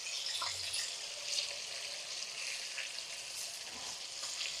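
Pieces of korameenu fish fry in hot oil in a pan, giving a continuous bright sizzle with soft crackles and a few faint stirring sounds, close and steady with no talk.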